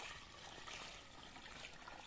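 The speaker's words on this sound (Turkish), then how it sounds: "Bak 20 litre su döktüm." Water from a 20-litre container pours steadily into the irrigation basin around a large tree, a soft, continuous trickling splash close by with no talking.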